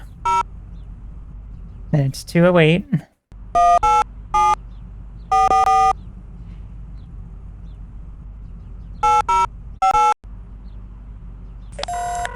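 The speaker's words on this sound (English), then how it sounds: "let's make sure that we dial a 1 first" Keypad tones sound as a phone number is dialed in The X-Files Game, a PC adventure game: short electronic beeps in small clusters, then a pause and a second burst, with a voice talking between them.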